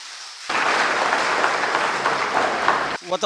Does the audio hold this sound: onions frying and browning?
no